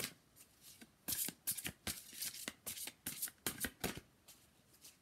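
Oracle cards being shuffled by hand in quick riffling bursts, close and crisp, repeating in an uneven rhythm with no talking over them.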